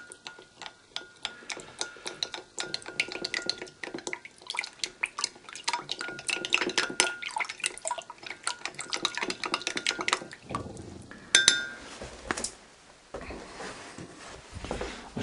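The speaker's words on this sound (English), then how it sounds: "I'll give that a stir around" A spoon stirs yeast into a mead mixture in a vessel, making a quick, uneven run of close, light clinks and scrapes with small watery swishes, then a brief pause and a few more taps.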